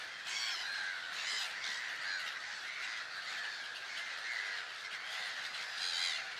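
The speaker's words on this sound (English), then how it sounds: "Such a huge amount of birds produces a very loud noise." A huge colony of birds calls loudly and continuously on an island, a dense crowd of harsh, overlapping squawks and caws rising and falling with no pauses and no talk.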